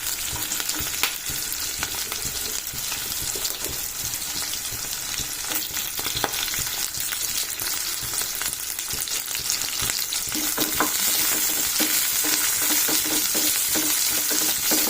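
Onion frying in a pan gives a continuous close sizzle with scattered stirring clicks, growing slightly louder toward the end, no talking.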